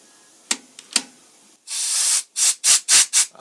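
An air nozzle blows compressed air around the power drawbar of a Grizzly G0755 mill. After two small clicks, one long hissing blast is followed by four short, loud, evenly spaced bursts, close and with no talking.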